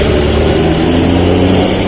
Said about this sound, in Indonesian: Nah ini ada bus.